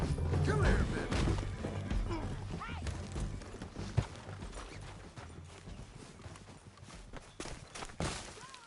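Horse hooves clopping in Red Dead Redemption 2, a brisk irregular run of hoof strikes with thuds and knocks, mixed with voices and scuffling.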